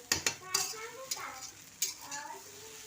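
A spoon scrapes and knocks against an iron wok of khichdi in several sharp strokes over a soft sizzle, with a voice speaking quietly between them.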